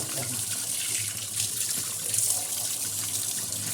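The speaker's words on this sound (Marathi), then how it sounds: "स्वच्छ अशी मच्छी धुवून घेणार आहोत त्या मच्छीला मस्त असं स्वच्छ धुवायचं" Running tap water splashes steadily into a sink while mackerel are washed under it, a continuous close hiss and patter with no talking.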